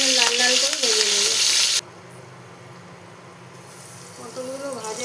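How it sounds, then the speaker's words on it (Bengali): Pointed gourd (potol) sizzles in hot oil while browning, a close, dense frying hiss that cuts off sharply partway through, followed by quieter room tone with someone talking over the start and end. "পটলগুলো লাল লাল করে ভেজে নেব।"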